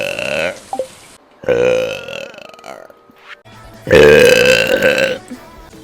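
Three long, loud, throaty burps in a row, each a drawn-out guttural belch with brief quiet gaps between them, the final one the loudest and fullest.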